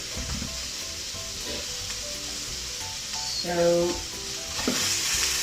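Cauliflower couscous stirred in a hot pan gives a loud, continuous sizzle and hiss with spoon scrapes, and a voice briefly speaks over it partway through.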